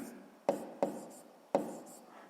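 A pen writes on paper in a quiet room, with a few sharp scratchy strokes and taps close up, while a person speaks softly over them.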